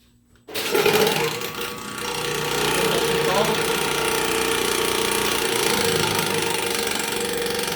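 A concrete sander starts abruptly, surging loud before settling into a steady, dense grinding roar that runs continuously at close range, with no talk over it.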